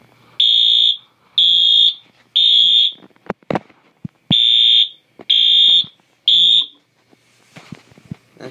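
A Wheelock AS fire alarm horn mounted under a junction box blares in loud, evenly spaced bursts, three then a pause with clicks and knocks, then three more, close and piercing.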